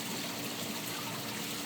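Water rushes steadily and forcefully around a corner of a channel in a newly started food garden, a continuous faint wash of flow with no breaks.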